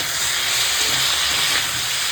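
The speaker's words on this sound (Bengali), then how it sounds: "আদা জিরে বাটা দিয়ে একটুখানি সময় সবজিটাকে কষিয়ে নেবো" Vegetables sautéed with ginger-cumin paste, giving a continuous loud hiss and sizzle close up, steady throughout and without speech.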